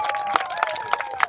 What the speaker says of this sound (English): let's have one more huge round of applause for both these riders